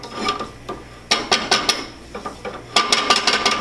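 Rubber spatula scraping and tapping around a hot pan while butter is spread for an omelette, a series of short clicky scrapes in irregular clusters, close and fairly clear.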